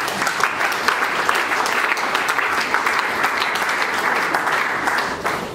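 A church congregation breaks into sustained applause, a dense, even roar of many clapping hands that carries on steadily from start to finish.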